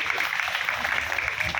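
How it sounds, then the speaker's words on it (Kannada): An audience clapping, a dense, steady patter of many hands held at moderate loudness throughout, with no clear voices over it. "ನಿಮ್ಮೆಲ್ಲರ ಹರಕೆ ಚಪ್ಪಾಳೆ ಜೋರಾಗಿ ಬರಲಿ"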